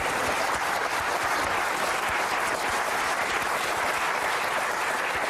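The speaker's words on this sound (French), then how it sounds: "Je voudrais qu'on applaudisse Vincent." A television studio audience applauds a guest named Vincent with dense, loud, sustained clapping that stays even throughout, with no voices over it.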